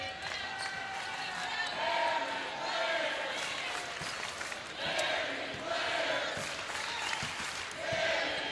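Crowd noise in a college women's basketball arena during South Carolina vs Texas A&M: a steady, loud roar of cheering with rising swells and sharp bursts, probably sneaker squeaks or ball bounces, throughout.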